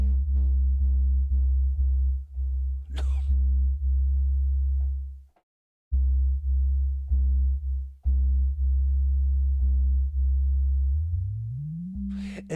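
A synthesizer bass plays a repeating pattern of short, loud, buzzy notes through a resonant filter, with one brief dropout midway and a closing note whose pitch sweeps upward as the cutoff rises.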